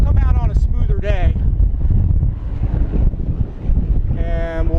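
Strong gusty wind buffeting the microphone at an RC model airfield, a constant roar throughout with people talking over it.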